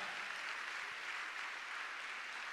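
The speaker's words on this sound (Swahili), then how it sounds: "Wapigieni makofi wenye usharika wao." Church congregation applauding together, a steady broadband wash of clapping that fills the space evenly from start to finish with no talk over it.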